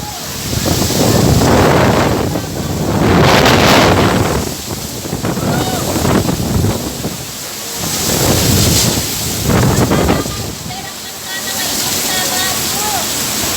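Typhoon Rolly in Balatan, Camarines Sur, brings roaring wind and crashing water in loud, surging waves that swell and ease every few seconds. Heavy wind buffets the microphone the whole time, and voices are faintly mixed in.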